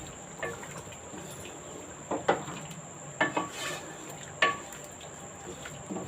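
Chicken korma being stirred and roasted in ghee in a kadai, with a spoon clinking and scraping against the pan in scattered bursts over a faint, steady sizzle.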